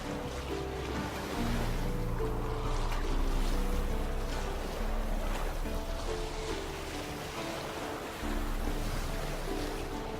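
A wooden boat crosses a fog-covered lake in The Witcher 3, with a steady wash of water and waves lapping against the hull. A low ambient rumble runs underneath throughout.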